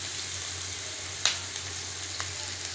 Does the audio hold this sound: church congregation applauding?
no